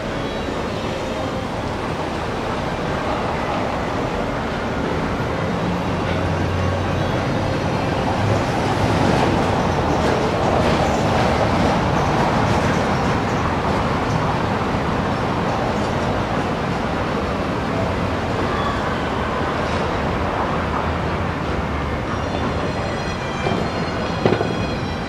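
Steady wind blowing outdoors at a fly-tying setup in Campeche, a loud continuous broadband rush that holds for the whole stretch with no voices and only slight swells.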